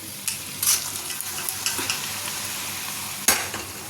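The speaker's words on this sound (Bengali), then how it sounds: "চলো ডালটা ঢেলে দিই" Dal poured into a pan of fried spices and stirred, giving a continuous close sizzle with a few sharp scraping and clinking spatula strokes, one louder burst near the end.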